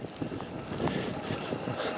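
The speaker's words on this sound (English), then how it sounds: "But it's quite windy" Gusty wind buffets the microphone in a steady rushing roar, close and fairly loud, with no talking.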